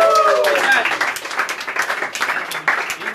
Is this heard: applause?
yes